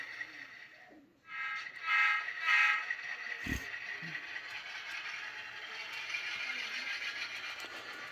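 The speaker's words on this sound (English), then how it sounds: "Locomotive is set for reverse." A railroad locomotive backing up in reverse on a rural short line rolls with a steady low rumble, hiss and faint metallic clanks and squeals, moderately distant and fairly quiet.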